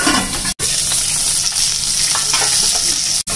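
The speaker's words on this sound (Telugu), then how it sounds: "ప్యాన్ వేడెక్కింది, కరివేపాకు వేస్తున్నాను." Curry leaves hit hot oil in a pan heated for frying rohu fish, a loud, close, continuous crackling sizzle with faint stirring, broken by two short gaps, and no talk.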